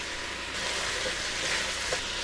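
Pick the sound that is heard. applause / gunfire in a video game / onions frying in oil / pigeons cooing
onions frying in oil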